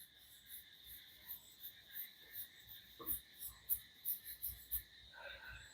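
Outdoor night ambience of frogs croaking in a steady rhythmic pulse, backed by a constant high buzz of insects, fairly faint.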